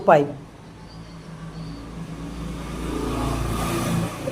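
A Yamaha Mio MXi 125 scooter engine idles steadily after a brief knock at the start, its low hum swelling slightly toward the end, with no talking.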